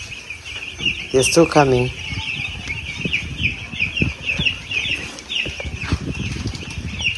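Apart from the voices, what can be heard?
chicks clucking on a poultry farm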